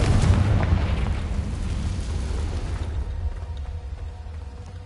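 A fiery Confringo blast spell explodes in Hogwarts Legacy, a loud booming burst with heavy low rumble right at the start that fades into a softer decaying tail over several seconds.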